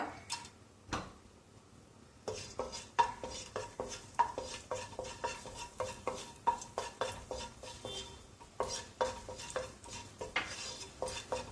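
Whole cloves, cardamom pods and cinnamon stick crackling in hot oil for a vegetable kuruma, with a spoon scraping and clinking against the pan in an uneven rhythm, close and moderately loud, with no talking.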